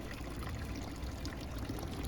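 Water trickles steadily from a small stone fountain on a street in Bern's old town, a continuous soft splashing flow with no break and no voices.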